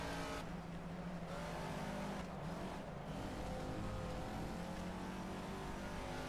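A Caterham race car in Project Cars roars through a flying lap, its engine held at steady high revs throughout with brief dips as it shifts, loud and continuous with no voices.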